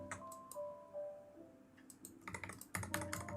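Light, sparse tapping on an iPad keyboard, soft clicks at first then a quicker cluster of taps, close and quiet, with a faint tonal hum in the background.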